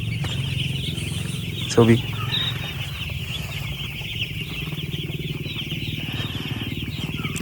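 Chickens on a village poultry farm let out a brief cluck near the two-second mark against a steady hum of farm background noise, with people talking nearby.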